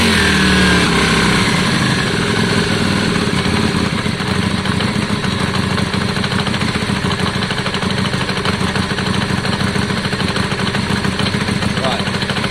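A Yamaha Virago 535 motorcycle engine idles close by after a carburetor clean and re-jetting, a steady rough rumble that holds an even pitch without rising, while voices talk faintly over it.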